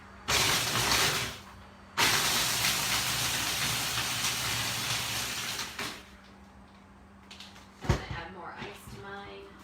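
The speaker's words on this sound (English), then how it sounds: "then you're just going to blend it up really quick" A blender roars loudly in two long bursts blending watermelon and ice, with a short break between them, then cuts out, leaving some quieter clinks and rustling.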